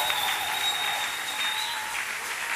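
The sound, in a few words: church congregation applauding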